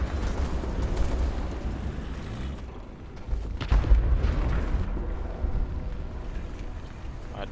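A T-26-4 howitzer tank gun fires in War Thunder, a heavy boom partway through followed by a rumbling tail over a continuous engine drone, with no voices.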